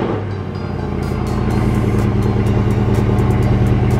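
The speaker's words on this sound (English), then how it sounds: "First cold start in the garage." A Mercedes C63 Black Series V8 cold-starting inside a garage, settling into a loud, deep, steady rumbling idle close by with no talking.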